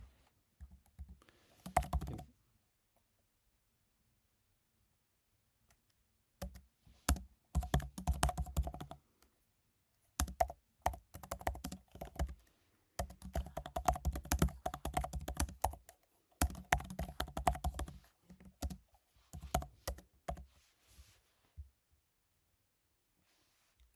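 Code is typed on a computer keyboard in bursts of rapid clicking keystrokes with short pauses between, close and moderately loud, with no talking.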